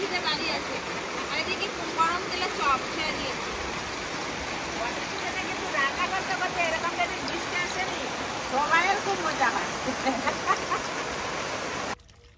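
Heavy rain pours down in a steady, dense roar like rushing water, holding at an even loudness throughout and cutting off abruptly at the end, with faint voices underneath.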